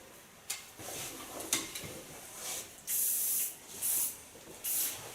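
Flexible hairspray is sprayed onto hair in a series of short, sharp hissing bursts, close by, with light taps and handling noises between them.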